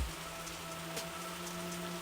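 Heavy rain pours down in a steady, dense hiss for a couple of seconds, with faint background hum underneath and no voices.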